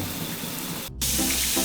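Water runs steadily from a household tap into a sink, a broadband rushing stream that cuts off for a moment and resumes slightly louder, with no voices over it.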